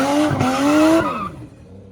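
A BMW E36 wagon in Japan with badly rusted brakes skids to a stop, a loud tonal tire squeal that bends downward and fades out over about a second, with no talking.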